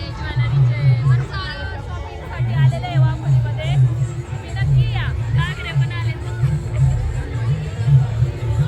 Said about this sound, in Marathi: गर्दी पण भरपूर आहे